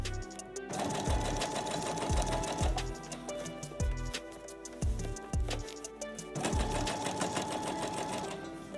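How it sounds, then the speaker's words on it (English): A sewing machine runs a straight stitch along the back seam of a pair of jeans, its needle clattering in a fast, steady rhythm. The motor hums loudly and close throughout, with brief slowdowns between runs. "straight stitch along that new back seam you marked out"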